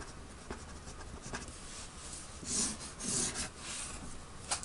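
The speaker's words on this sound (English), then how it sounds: "Percent, I guess I could write here" Handwriting scratches and rubs faintly across paper in short irregular strokes, with a couple of louder bursts of scribbling toward the end, close and quiet.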